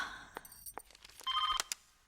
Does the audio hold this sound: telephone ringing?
yes